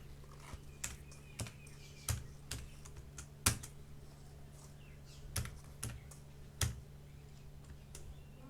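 Typing on a computer keyboard: a run of separate, close key clicks at an uneven pace with short gaps between them, over a low steady hum. No one speaks.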